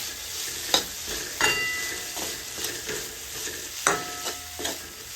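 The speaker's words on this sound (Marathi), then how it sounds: "आपल्याला ह्यामध्ये शेंगदाण्याचं कूट टाकायचं आणि भाजी परत व्यवस्थित हलवून घ्यायची" A spoon stirs ridge gourd curry in a pan after crushed peanuts go in, giving soft scraping strokes with a few sharper clinks over a low, steady sizzle.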